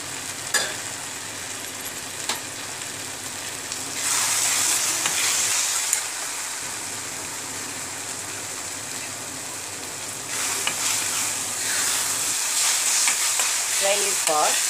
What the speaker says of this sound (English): Fry it for 10 seconds.